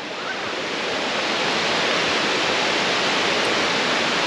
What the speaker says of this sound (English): Wow, look at that waterfall.